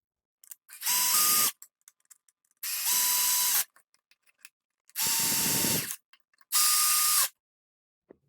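A Picote Smart Cutter drain cleaning machine with a front plate and drill head spins up in four short whirring bursts, each about a second long, with quiet gaps between them.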